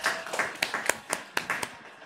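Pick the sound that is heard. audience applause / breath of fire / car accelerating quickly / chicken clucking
audience applause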